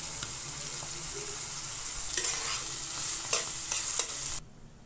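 Boiled kheer poured with its water into a pan of khero curry with ground spice paste, then sweetened with jaggery; a steady sizzle and stirring scrape run throughout, with a few louder clatters near the end before it drops away.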